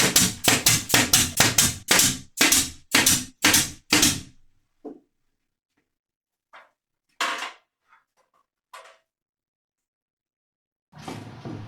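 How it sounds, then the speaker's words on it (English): A hammer drives nails into wooden cleats being glued onto shelf sides of a deep shop cabinet, with about ten quick, sharp strikes in a row, then a few scattered taps and a clatter, loud and close. "They just get nailed and glued on, the same as the ones above."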